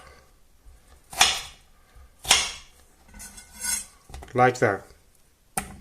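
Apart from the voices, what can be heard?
knife cubing food on a cutting board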